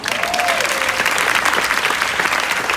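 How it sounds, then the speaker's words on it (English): Loud, dense audience applause at a memorial tribute event, many hands clapping steadily at close range, with a brief cheer or whoop rising early on. "you guys don't have to clap for all these people, but you can if you want"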